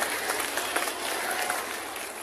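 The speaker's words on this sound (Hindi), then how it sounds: "मैम के लिए जरा जोरदार ताली बजाओ प्लीज।" A school audience claps loudly at a magic show, giving a dense, continuous wash of applause that stays steady for the whole moment.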